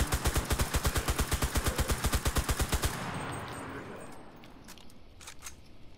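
Rapid automatic gunfire from the video game CRSED, a loud steady burst of evenly spaced shots for about three seconds that cuts off abruptly, followed by quieter scattered game sounds and faint distant pops.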